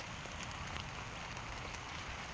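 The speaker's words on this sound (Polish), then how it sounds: "Wcześniej padało, teraz też pada i później pewnie też będzie padać" Steady rain falls on a garden allotment with cucumber beds, a continuous soft hiss of drops on surfaces with no breaks or voices.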